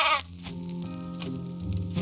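Sheep bleat in the video game Craft The World, one clear close bleat followed by a sustained, wavering cry over a low musical background.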